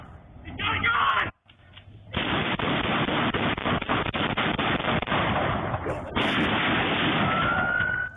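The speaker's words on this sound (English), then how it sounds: "Surveillance video shows two men dodging gunfire in Southlake's busy shopping area Friday morning" Gunfire erupts during a shootout in a busy shopping area where crowds had lined up for a turkey giveaway, a loud, dense burst of sharp reports and commotion lasting several seconds, briefly cutting out before resuming.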